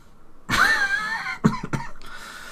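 A person lets out a loud, raspy cough followed by two shorter, sharper coughs, close up with nothing else going on.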